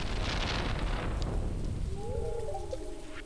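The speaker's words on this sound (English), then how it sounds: "drop another rain totem, continue the flood, the torrential downpour, the tropical storm" Heavy torrential rain pours steadily in the Stardew Valley video game, with dense hiss filling the sound and low rumbling underneath, then a short tonal game chime near the end.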